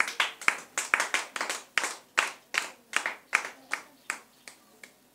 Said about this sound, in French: Acclame le Seigneur Jésus pour toi-même.